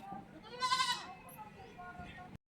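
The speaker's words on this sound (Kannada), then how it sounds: "ಇದು ಒಂದು ಮರಿ ಕುರಿ" A young lamb gives one clear, fairly close bleat, with a softer cry trailing after it over quiet outdoor background noise.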